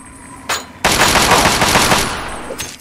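Automatic weapon fire from Fallout 3 rips out in a loud, sustained burst of rapid shots lasting nearly two seconds, preceded by a single short shot and tapering into a last brief report.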